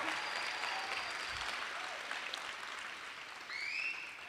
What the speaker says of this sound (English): Can we give a round of applause for all the people that have helped you get to here?